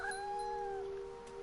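A cat in What Remains of Edith Finch gives a single drawn-out, wavering meow, fairly quiet and alone over a steady tonal background hum.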